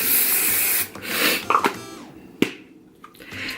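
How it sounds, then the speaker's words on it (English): A sustained hiss of hairspray lasting under a second, followed by rustling and brushing of hair close by. "And then just give that side a little spray."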